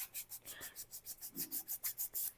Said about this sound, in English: all I'm going to do is just sand that a little bit